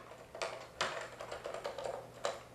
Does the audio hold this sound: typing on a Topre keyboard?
yes